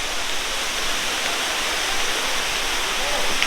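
Limbi Falls near Pelling pours down in a loud, steady broadband rush, constant and close throughout with no pauses.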